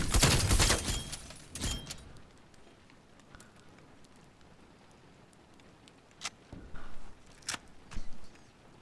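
Gunfire in Call of Duty Zombies: a loud rapid burst at the start, then quieter scattered single shots and short bursts spread through the rest of the clip, with softer ambient noise between them.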